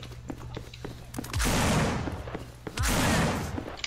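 A submachine gun fires in Half-Life 2 Deathmatch: two loud, close bursts of rapid gunfire, each lasting about a second, with quieter in-game clatter and thuds between them.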